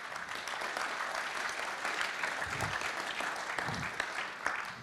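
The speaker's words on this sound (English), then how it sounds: "so round of applause." A church congregation gives a steady round of applause, a dense continuous wash of clapping that holds evenly at moderate, somewhat distant level throughout.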